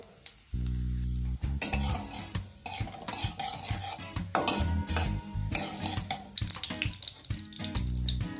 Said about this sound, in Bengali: কড়াই সামান্য সাদা তেল দিয়ে দিয়েছি জিরে ফোড়ন দিয়ে দিলাম